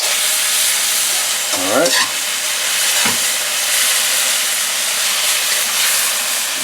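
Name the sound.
garlic sizzling in a very hot pan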